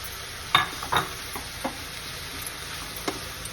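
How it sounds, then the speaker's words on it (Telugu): Tomatoes sizzle softly in a pan for ridge gourd chutney while a spoon gives a few scattered stirring scrapes and knocks, nearby and fairly quiet, with no voices. "ఇప్పుడు ఈ టమాటాలు వేసేస్తాం"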